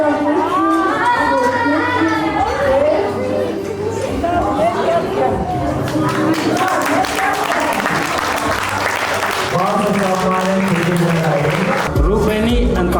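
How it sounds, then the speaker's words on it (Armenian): Loud, sustained applause from a gathered crowd at an engagement celebration in Dilijan, clapping continuously throughout with crowd chatter and voices mixed in underneath. "Եկեք բարձր ծափարենք"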